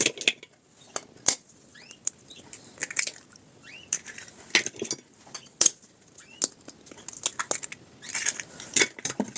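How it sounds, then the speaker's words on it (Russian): Eggs cracked one at a time into a bowl of flour and margarine, with sharp shell taps and light clinks scattered through the clip and soft scraping and kitchen handling in between, no talking. "В муку с маргарином разбиваем 3 яйца."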